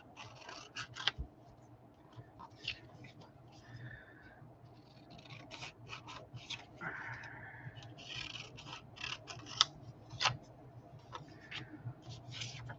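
Scissors fussy-cut paper for a bee-themed journal with quiet, repeated short snips and light rustling of paper, close and soft, spaced irregularly through the passage.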